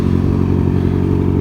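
A Kawasaki Z1000 motorcycle fitted with a Y-pipe exhaust runs steadily, its deep, loud, even burble holding close and constant with no talk.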